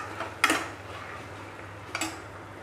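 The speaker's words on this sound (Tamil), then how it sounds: "அரைச்சி வச்ச இஞ்சி பூண்டு எல்லாத்தையும் போட்டு ஒரு மிக்ஸ் நல்லா கிளறிக்கோங்க" Onion, tomato, spices and ginger-garlic paste stirred in a pot for mutton biryani, with two sharp metal clinks of a spoon against the pot over a steady background hum.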